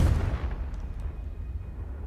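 A Confringo fire spell explodes in the video game Hogwarts Legacy, a single deep booming blast that opens with a sharp punch and fades into a low rumbling tail.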